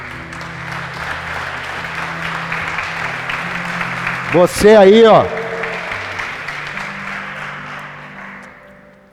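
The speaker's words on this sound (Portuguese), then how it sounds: "Você podia dar um aplauso a Ele?" Audience applause at a Christian church service, a dense, steady wash of clapping lasting several seconds with a brief vocal exclamation midway, then tapering off at the end.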